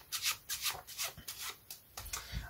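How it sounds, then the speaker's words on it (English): Playing cards being shuffled in several quick, soft riffling bursts, close and fairly quiet, with no voices. "So we shuffle off the top stock in the first shuffling movement."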